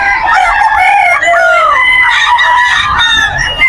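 A Golden Boy crossed with Gilmore gamefowl rooster crows loudly and close at a pet market, its long strained call running through the whole stretch with clucky breaks.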